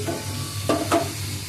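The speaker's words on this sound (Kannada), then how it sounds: "ಸ್ವಲ್ಪ ಫ್ರೈ ಮಾಡ್ಕೊತೀನಿ ನೋಡಿರಿ ಇಲ್ಲಿ" Onions, tomatoes, chillies and raw masala fry in a pan, a close sizzle broken by two quick scraping stirs in the middle of a brief moment.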